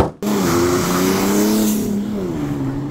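A turbocharged BMW six-cylinder car engine, fitted with a heavy-truck turbo, starts abruptly and revs loudly and steadily, its pitch rising and falling, close by with no talking.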